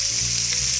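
Stuffed chicken pieces browning in a hot pan give off a steady, dense sizzle that holds evenly loud through the whole short moment, with no talking.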